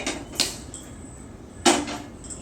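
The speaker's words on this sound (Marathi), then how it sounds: "आता मी गॅस लावून घेतो पातेला ठेवलंय तापायला" A metal pot set down on a gas stove in a home kitchen, two sharp clanks about a second apart, close and fairly loud over quiet room tone.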